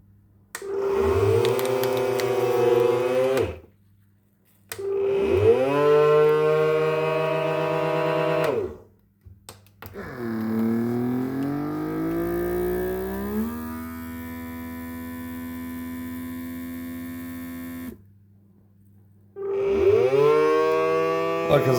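A small home vacuum sealer packs razor clam bait, droning in long, loud whining cycles of several seconds each, separated by short pauses, with one longer, lower-pitched hum in the middle.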